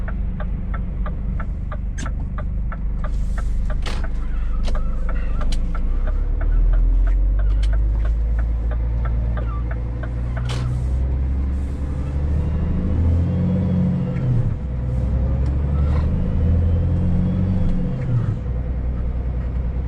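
Low rumbling road traffic and engine hum heard from inside a truck cab stuck in evening congestion in Berlin, a steady drone with shifting low tones as vehicles idle and creep, continuous throughout with no talking.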